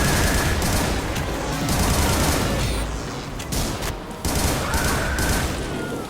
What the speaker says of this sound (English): The audio in particular, the effects for the guns, they're just amazing